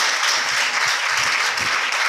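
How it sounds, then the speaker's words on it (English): An audience at an International Women's Day celebration claps in a continuous, dense burst of applause, close and loud throughout with no pauses. "Can we clap for that?"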